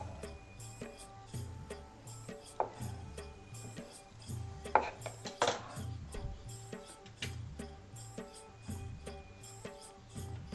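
Knife chopping coriander finely on a board for kothimbir vadi, a run of quick, fairly faint taps in a steady rhythm with occasional louder knocks, no talking.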